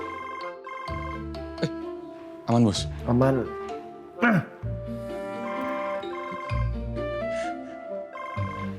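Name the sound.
telephone ringing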